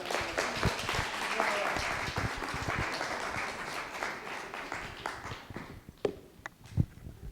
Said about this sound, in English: So another reason to applaud.